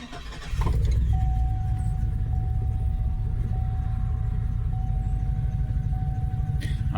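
A Hummer H2 engine idles steadily after a battery fix, a close, even low rumble with a faint constant whine on top, running alone without talk.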